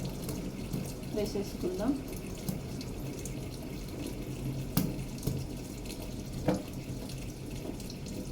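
Tap water runs steadily into a sink while bitter gourds are washed in a home kitchen, a continuous close splashing stream with a few clinks, as someone talks quietly over it.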